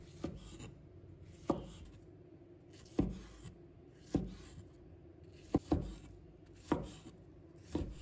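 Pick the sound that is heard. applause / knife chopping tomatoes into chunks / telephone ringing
knife chopping tomatoes into chunks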